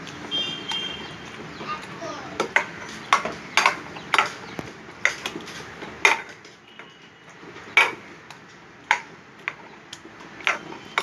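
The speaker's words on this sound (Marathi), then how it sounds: "ह्या ग्लासाचा वापर करणार आहे आणि त्याच्यानेच मी तुम्हाला मॅश करून दाखवणार आहे" Repeated hard taps and clinks of a glass pressing against a steel pot, a steady rhythmic mashing of boiled vegetables for pav bhaji, with a voice speaking over it.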